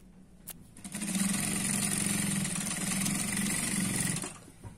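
A sewing machine runs steadily for about three seconds, stitching the shoulder seam of a Punjabi dress, its fast rhythmic whir starting and stopping cleanly with a couple of small clicks around it.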